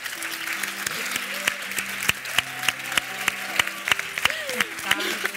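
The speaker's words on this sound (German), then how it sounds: "Achso, wir klatschen uns zu." Audience applause fills a live lesbian cabaret show in a German salon setting, a steady crackling clap with sharper individual claps standing out, while voices talk over it.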